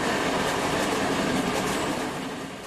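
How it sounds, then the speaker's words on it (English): Trains pass at a station in Hungary, a loud, dense rumble and rushing roar of rolling stock that fades slightly toward the end. "Trains pass at Chopak as we depart once more aboard the 1345 from Budapest to Topoltsa."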